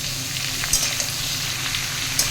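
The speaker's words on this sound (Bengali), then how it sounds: "তো জিনিসগুলো কেটে কুটে নিয়ে রাঁধুনি ফোড়ন দিয়ে চাপিয়ে দিয়েছি" Cut vegetables fry in oil after a radhuni spice tempering for shukto, a steady close sizzle with a couple of sharp pops and light stirring clicks.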